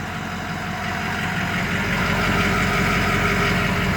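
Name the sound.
2005 Ford F250 Powerstroke diesel idling, factory exhaust with muffler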